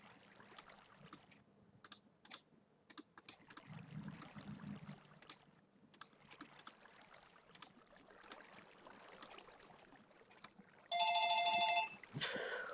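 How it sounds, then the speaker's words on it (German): A telephone rings loudly for about a second near the end, a bright electronic trill, after a long stretch of quiet computer keyboard typing and mouse clicks during a Minecraft session. "Oh, hier klingelt gerade das Telefon."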